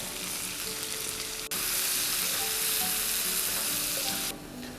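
Chopped garlic and onion fry in melted butter in a pan, a steady loud sizzle that jumps up sharply partway through as more food goes in, with faint stirring beneath and no voices.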